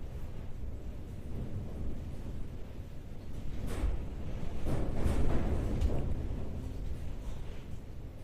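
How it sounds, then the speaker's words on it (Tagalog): Strong wind blowing at night during a power outage, a low continuous roar with gusts that swell louder in the middle and ease off again, with no voices. "Lakas ng hangin."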